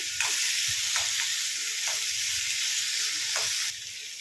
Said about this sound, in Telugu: మొత్తం ఒకసారి కలుపుకుందాము